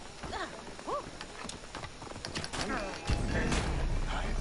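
Horse hooves in Assassin's Creed Origins clip-clop in quick rhythm amid mechanical creaks and clanks, fairly close and moderately loud.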